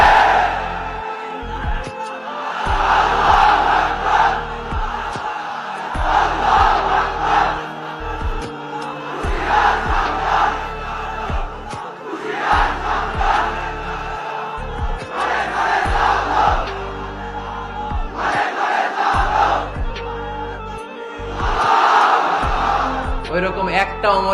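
A large crowd at a religious sermon shouts back in repeated loud bursts of collective yelling and battle-cry chants, with short pauses and a preacher's voice between the waves.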